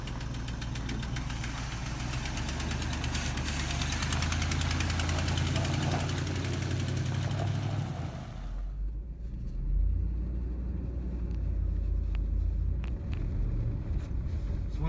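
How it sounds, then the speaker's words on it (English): A Dodge Ram farm truck engine with an exhaust leak runs steadily close by, a loud low rumble with a faint ticking knock, then drops into a quieter, lighter idle partway through. "One thing about this truck is it does also seem to have a bit of an exhaust leak."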